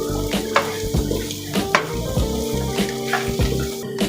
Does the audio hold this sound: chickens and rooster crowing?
no